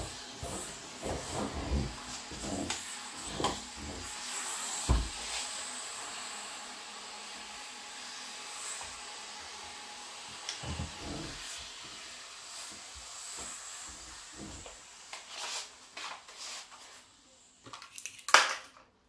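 Black & Decker steam cleaner hissing against kitchen cabinets, a long continuous hiss with bursts and sputters rising and falling, near and moderately loud, ending in a few sharp knocks.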